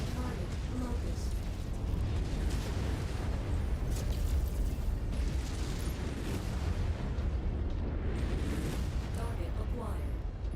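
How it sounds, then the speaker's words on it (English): Rumbling missile explosions and bursts in the video game MechWarrior 5: Mercenaries, a dense continuous low roar of detonations with a voice speaking intermittently over it. "Incoming missile."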